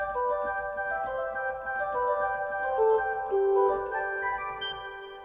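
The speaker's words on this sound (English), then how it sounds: "The second group of sounds are called the flutes." Pipe organ flute stops play a soft, sustained line of smooth, pure-toned notes moving stepwise. Quiet and steady with no talking.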